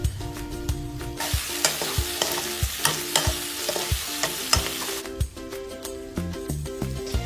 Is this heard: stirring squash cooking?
yes